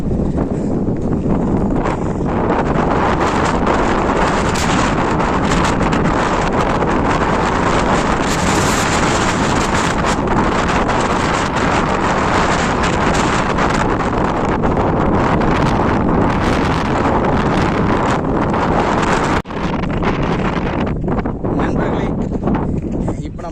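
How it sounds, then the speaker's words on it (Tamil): Strong wind buffets the microphone in a continuous loud roar with gusty surges, and a voice can be heard talking faintly beneath the rush. "காற்று வலுவாக அடிக்குது"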